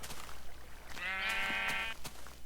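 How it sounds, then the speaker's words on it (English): A sheep bleats after being punched in Minecraft, one clear wavering bleat about a second long, heard over quiet background noise with no talking. "Yay for punching sheep."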